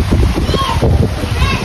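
Strong Hurricane Beryl wind in Grenada: loud, rumbling gusts buffet the microphone nonstop, with a voice talking through the roar.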